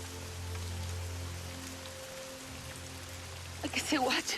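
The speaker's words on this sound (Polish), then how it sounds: "Okropnie pada." Heavy rain patters steadily on a surface with a low hum underneath, and a voice briefly speaks near the end.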